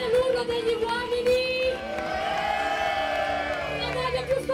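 Men in an outdoor concert audience shout together at the close of an orchestra show in San Martino, a sustained loud collective yell rising and swelling over a couple of seconds amid crowd noise and scattered cheers.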